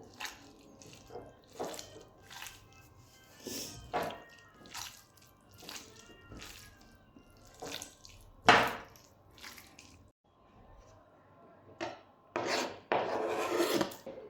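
Vegetables and salt for bhorta are mashed and kneaded by hand, making wet squelching rubs. The strokes come in close, irregular bursts with quiet pauses between them, and grow louder and denser near the end.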